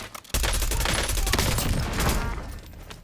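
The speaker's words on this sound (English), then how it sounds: "Assault rifle." Assault rifle fire in the video game Warzone, set in Verdansk: after a brief quiet moment, a loud rapid burst of automatic shots rattles for about two seconds, then tapers off.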